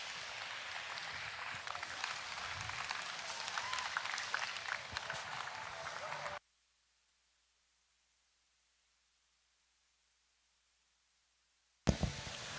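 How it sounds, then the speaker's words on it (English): Applause from the crowd at a breeding doe show in the Super Barn Arena, a steady patter of clapping for about six seconds that cuts off abruptly, followed by silence and a brief burst of sound at the end. "Give them one more round of applause."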